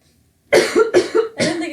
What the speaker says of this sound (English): I'm gonna fucking cough here